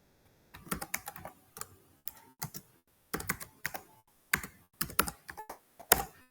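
Someone types on a computer keyboard in irregular bursts of close, crisp keystrokes with short pauses between them, with no talk.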